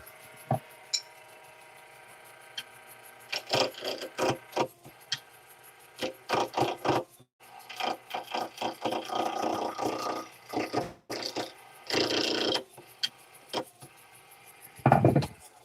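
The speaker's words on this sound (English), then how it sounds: "Got to give this lathe station a bit of a test run." Wood being turned on a lathe with a carbide tool, intermittent scraping and cutting bursts of varying length over a low motor hum, loudest near the end, with no talking.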